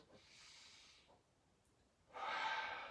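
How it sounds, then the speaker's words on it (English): Two nasal inhales during a guided breathing exercise, a softer sniffing breath followed by a stronger, louder draw of air through the nose, close and alone with no talking. "take a nice breath in through your nose"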